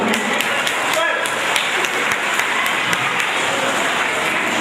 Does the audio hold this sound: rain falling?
no